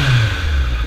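Suzuki Bandit 600 motorcycle on its stock factory exhaust, engine revving with a steady low growl that rises in pitch, close and loud throughout without talk.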